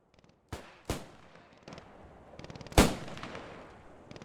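Machine gun fire in a World War II-style video game set at Driel: a few sharp shots, then a louder close burst and quieter rapid bursts behind, with scattered distant crackle between.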